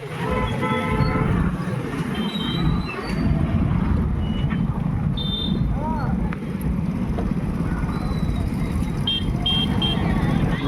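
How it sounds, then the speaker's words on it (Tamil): Busy road traffic in a Rajasthan market, a steady engine rumble broken by several short car horn toots, with voices talking over it throughout. "டிராஃபிக் ஆகி விட்டது ஃப்ரெண்ட்ஸ்."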